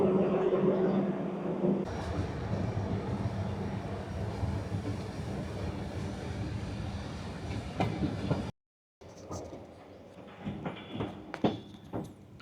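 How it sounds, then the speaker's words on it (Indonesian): A EuroCity 159 train from Graz to Zagreb pulls out of Dobova station in Slovenia. It gives a steady rolling rumble with light rail clatter, then after a brief dropout, uneven clanks and knocks sound close by. "Kereta akhirnya diberangkatkan lagi nih dari stasiun Dobova"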